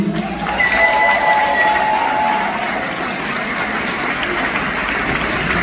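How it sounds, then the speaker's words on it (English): At a Sayreville War Memorial High School graduation ceremony, a large audience gives loud, sustained applause that fills the hall, dense and steady, with a few raised voices standing out at the start. "A little applause, please."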